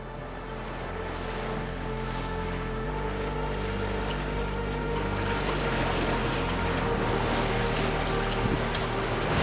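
Ocean waves wash steadily against a sailboat during an Atlantic crossing, with continuous water rush and low engine-like hum throughout.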